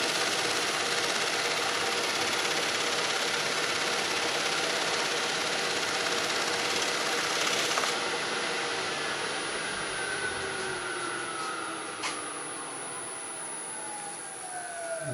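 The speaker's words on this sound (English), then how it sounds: "I put the little heater on it, and it only takes about, maybe 8 or 10 minutes to dry." Small electric heater blowing warm air to dry axe-polishing paste: a steady, close, whirring fan hiss with a constant high whine, holding level for the full stretch and easing slightly toward the end, no talk.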